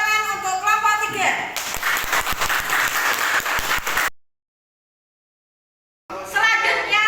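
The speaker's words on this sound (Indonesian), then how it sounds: "Tepuk tangan untuk kelompok 3." Applause for a student group at a school field-practice presentation: a loud burst of many hands clapping together for about three seconds, after a voice and before a gap of silence, with speech resuming afterward.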